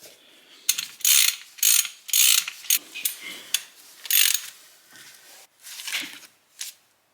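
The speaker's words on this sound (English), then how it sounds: "as you turn the ratchet to loosen it, it actually grips the stud more and pulls it out of the head" Ratchet wrench loosening a stud from a Mitsubishi Evolution 8 engine head, giving a series of close, crisp clicking bursts in an uneven rhythm with short pauses between turns.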